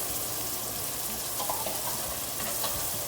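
Vegetables sizzling and frying in a hot pan while spaghetti is being made, a loud, continuous crackling hiss with faint stirring clinks.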